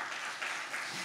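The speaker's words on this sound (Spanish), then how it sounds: "Démosle un fuerte aplauso al Señor esta mañana" Church congregation applauding the Lord during a Spanish-language service, a brief, fairly quiet burst of many hands clapping at once.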